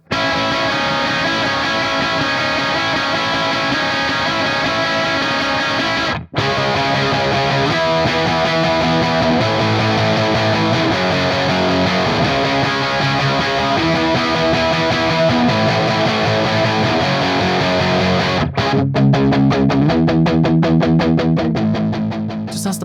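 Heavily distorted electric guitar through a UAD Lion '68 amp plugin with a V30 cab, in E standard, chugging palm-muted power chords and riffs, loud and continuous, with a brief break near the middle and choppy stops at the end.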